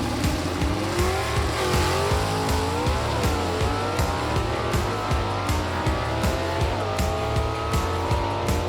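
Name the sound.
drag race cars racing, including a 1964 Galaxie 500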